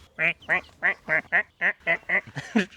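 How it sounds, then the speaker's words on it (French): A duck quacks nine or ten times in a steady rhythm, loud and close, with a short raspy call at the end. "Le canard crie, c'est signe de pluie"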